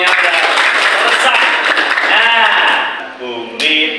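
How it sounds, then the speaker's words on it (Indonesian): Students at a junior high school classroom break into a burst of clapping that fills the first few seconds, then fades as voices continue over it. "Tepuk tangan untuk kita semuanya."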